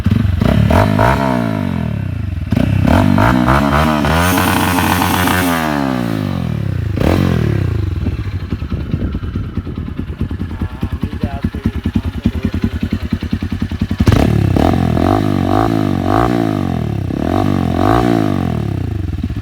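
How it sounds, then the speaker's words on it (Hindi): A KPR 200 motorcycle with an M4 exhaust revs hard up close in repeated rising bursts. The engine drops back to a rapid, rattling idle between blips, then revs again, loud and continuous. "और अभी ये उमर भाई इसका साउंड टेस्ट कर रहे हैं।"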